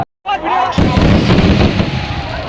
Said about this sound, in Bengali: রক্তরঙের আতশবাজি খেলা দিচ্ছেন